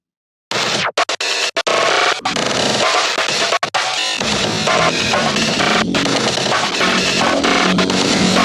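Breakcore track built in LMMS, an early version: dense, loud, distorted noise with chopped breakbeats and abrupt stuttering cuts, settling into a continuous harsh wall of sound with no voices.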